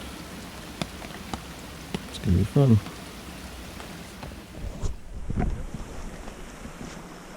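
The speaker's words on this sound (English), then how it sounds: "So we're about ready to pack up and head out in the rain." Rain falls at a wilderness campsite in Dolly Sods after light snow, a steady wash of drops with wind buffeting the microphone, while a person speaks briefly close by.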